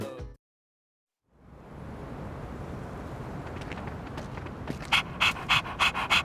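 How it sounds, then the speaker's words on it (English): A dog pants rhythmically in Persona 3 Reload, starting as a soft breathy hiss and then turning into several loud, quick puffs close up near the end. "Gotta take our dog for a walk sometimes."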